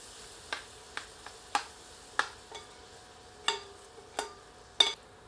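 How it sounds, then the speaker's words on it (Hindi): Sliced onions fry over medium heat in ghee for ghee murgh, giving scattered sharp crackles and pops, about a dozen spaced irregularly over a faint sizzling hiss, close and fairly quiet. "आंच को मध्यम कर लेते हैं और प्याज को तब तक भूनते हैं जब तक कि प्याज सुनहरे रंग में परिवर्तित नहीं हो जाती"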